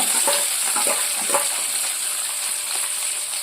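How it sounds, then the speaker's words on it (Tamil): Small onions and green chillies fry in hot oil for a chicken pepper fry, a loud, even sizzling hiss that holds steady throughout, with faint stirring scrapes and no voices. "எண்ணெய் ஹீட் ஆயிடுச்சு. அந்த 2 கைப்பிடி அளவு சின்ன வெங்காயம் நம்ம எடுத்து வச்சோம் இல்லையா, அதை ஆட் பண்ணணும்."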